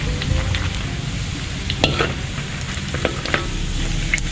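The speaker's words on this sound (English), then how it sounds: "Keep on stirring until you get the golden brown." Ginger fries in oil in a wok, a constant close sizzle broken by occasional sharp clinks and scrapes of a stirring utensil against the metal, with no voices.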